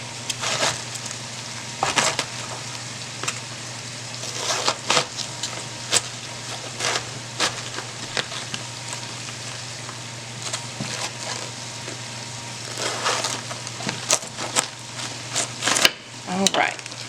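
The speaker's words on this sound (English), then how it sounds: "let's get our cabbage cut up." A kitchen knife cuts through a head of cabbage on a cutting board, with a series of crisp, irregular chops and crunches repeating close up over a low steady background hum.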